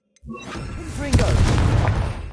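A Confringo spell blast in Hogwarts Legacy lands as a sudden heavy boom with a brief whooshing lead-in, followed by a rumbling, crackling tail; a voice is heard around it.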